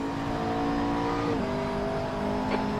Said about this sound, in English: There's a car leaving the pit lane.